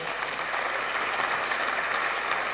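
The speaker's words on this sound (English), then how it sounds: "Can we please give him another round of applause?" Audience at a World Science Festival panel on cities applauds steadily, a dense even patter of many hands throughout, fairly distant and moderately loud, with no talking over it.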